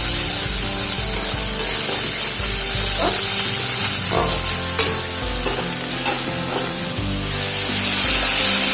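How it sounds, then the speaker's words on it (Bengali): Ginger and green chili paste fries in a pan with a loud, steady, close sizzle. Occasional scrapes of stirring cut through the constant crackle. "যেহেতু আদা দেওয়া আছে সেজন্য একটু হালকা ভেজে নেব।"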